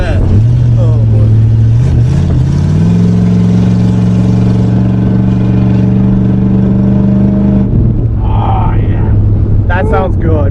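Mini Cooper with a straight-piped exhaust idling on propane, a loud steady low drone with a brief rise in pitch early on, while people talk over it near the end.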